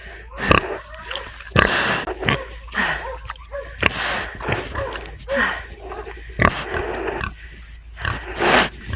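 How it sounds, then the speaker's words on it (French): Pigs grunting and snorting in a snowy pen, with repeated close, rough grunts in irregular bursts and a few sharper squeals, loud and mostly on their own. "Je suis avec les cochons."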